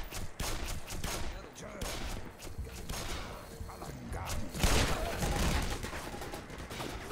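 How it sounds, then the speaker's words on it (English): Dense gunfire from the Black Mesa video game, a continuous barrage of rapid shots and bursts in a busy mix, with faint voices underneath. "I'm hearing a lot of shooting."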